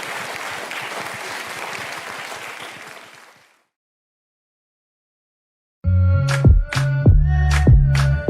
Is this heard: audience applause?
yes